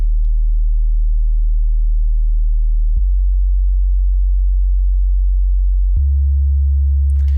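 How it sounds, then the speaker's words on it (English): A pure sub-bass sine tone from a music mashup holds steady and low, shifting pitch abruptly twice in even steps, with a faint high shimmer creeping in at the very end and no voices. "of course, a sub bass."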